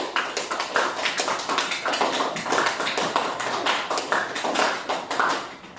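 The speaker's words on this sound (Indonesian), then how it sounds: "tepuk tangan untuk kelompok 1" A classroom group gives applause for group 1 in a teacher-training session: steady, fairly close clapping from several people, dense and even, lasting the whole stretch with no talk.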